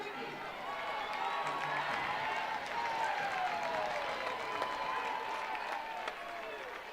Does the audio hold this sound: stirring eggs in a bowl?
no